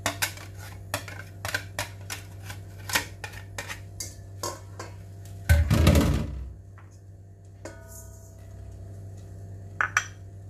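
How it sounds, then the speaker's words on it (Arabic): Egg yolks whisked with sugar and vanilla in a bowl for a chocolate bûche, a utensil clinking steadily against the bowl in repeated taps, then a brief louder burst of scraping and rattling before quieter scattered clinks. "دابا غادي نخلط الصفر ديال البيض مع السنيده"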